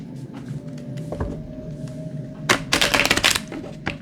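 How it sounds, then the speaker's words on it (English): Stiff tarot cards are shuffled by hand, a dense burst of riffling snaps and flutters close up, with scattered smaller clicks before it. "Shuffle. These cards are still pretty stiff."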